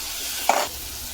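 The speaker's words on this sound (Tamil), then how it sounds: "போட்டுட்டு இதுவும் சேர்ந்து நல்லா வதக்குங்க." Coriander is sautéed in a hot pan while making paneer butter masala, heard as one brief stir and sizzle burst that quickly fades back to a low background.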